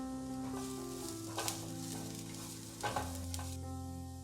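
Curry leaves sautéing in a hot pan for sweet potato cutlets, a steady sizzle and frying hiss with stirring scrapes, no talk, with a constant tonal hum from background music running under it.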